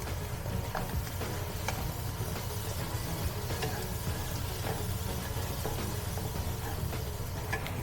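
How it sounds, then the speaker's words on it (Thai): Luffa stir-fried with oyster sauce in a pan, a quiet steady sizzle with faint stirring scrapes and ticks running continuously at low level. "ผัดให้น้ำมันหอยมันเข้าไปในเนื้อบวบก่อนนะคะ"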